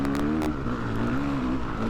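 A Ducati motorcycle, a Desmo model, ridden past on a ride-out, its loud steady engine drone changing pitch slightly as it goes by, close and continuous with no talk.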